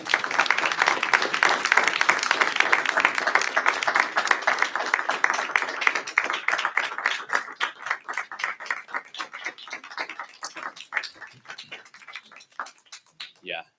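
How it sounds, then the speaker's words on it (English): Crowd applause, full and dense at first, then thinning into scattered individual claps that fade toward the end. "Let's give him a round of applause."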